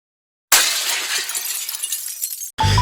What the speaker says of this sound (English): Smashing.